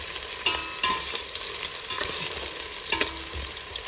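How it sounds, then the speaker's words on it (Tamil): Onions and green chillies sauté in a pan with a steady broadband sizzle, punctuated by a few sharper scraping stirs of a spoon against the metal, close and continuous with no talking. "அதனால் பச்சை மிளகாயும் இது கூட சேர்ந்து வதங்கட்டும்."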